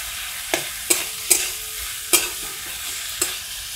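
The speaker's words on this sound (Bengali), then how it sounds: "মশলাটা আবারও ভেজে নেব।" Spiced masala with a spoonful of hung curd frying in a pan for shahi masala dal fry, a light sizzle punctuated by six crisp spatula scrapes and taps, close and clear, with no talking.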